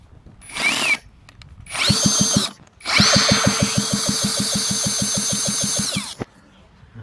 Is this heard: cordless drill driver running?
yes